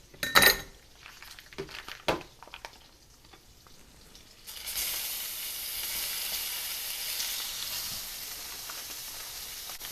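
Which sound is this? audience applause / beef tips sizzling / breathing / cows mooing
beef tips sizzling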